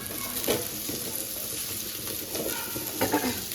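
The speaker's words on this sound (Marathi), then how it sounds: "इथे मस्त सुद्धा फ्राय होतोय मच्छी झाली ते फ्राय" Fish frying in a home kitchen pan gives a steady sizzle with a few brief louder crackles and scraping touches, close and without talk.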